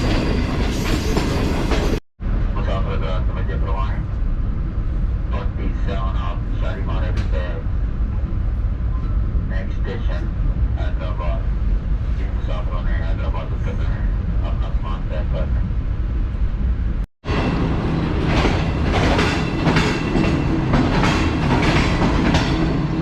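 Shalimar Express train running from Karachi to Lahore, a steady loud rumble with rhythmic clickety-clack of wheels over rail joints, heard from inside the carriage while someone talks over it.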